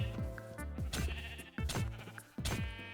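Sheep in the Minecraft RLCraft modpack bleat several times in close succession, wavering baa calls overlapping loudly, with faint game sounds beneath.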